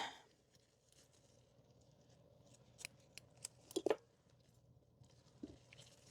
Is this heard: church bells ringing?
no